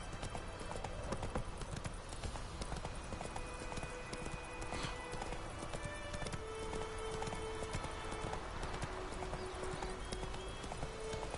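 Steady clip-clop of horse hooves at a trot in the video game The Witcher 3: Wild Hunt, continuous and fairly close, with a faint music bed and ambient noise underneath.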